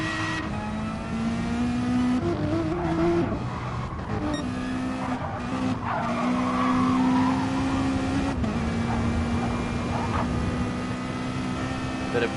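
Race cars in a Le Mans racing video game, a Mazda among them, roar continuously with rising and falling engine pitch as gears shift, with tire squeal and a commentator's voice over the top.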